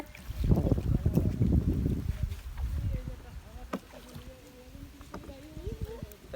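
Water sloshes and splashes around a small boat as it moves, with a person talking over the watery noise.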